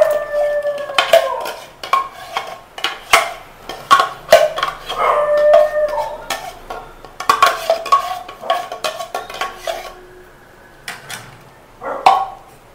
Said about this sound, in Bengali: আমটাকে একদম দুধের সঙ্গে ভালো করে মিশিয়ে দিচ্ছি